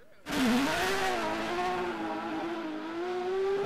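A loud rally car engine revs hard and holds at a high, steady roar, with a slight rise and fall in pitch throughout.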